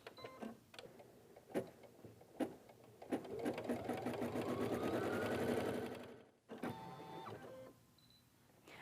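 An embroidery machine stitches a design on an extra large in-the-hoop gift bag, a steady mechanical whirring that runs loud for about three seconds with sharp needle ticks before and after, then pauses and resumes more quietly.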